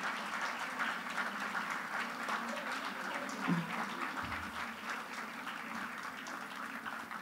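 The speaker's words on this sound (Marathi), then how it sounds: "जोरदार टाळ्या वाजवून या गायकांचं कौतुक करूया" An audience at a school gathering applauds its young singers, a continuous wash of many hands clapping, moderately loud and even throughout.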